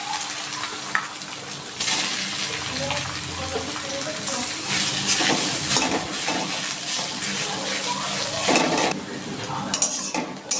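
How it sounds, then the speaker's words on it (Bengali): Bottle gourd frying in ghee in a kadai gives a steady, close sizzle, broken by clinks and scrapes of a utensil stirring against the pan. "আমি এবার লাউটা একটু ঘি দিয়ে ভেজে নিচ্ছি।"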